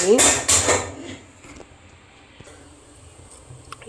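A metal pressure cooker is set down for ghee rice, giving a couple of loud close metallic clanks and clatter at the start, then quiet room tone with faint small knocks.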